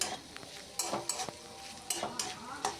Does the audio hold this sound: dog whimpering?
no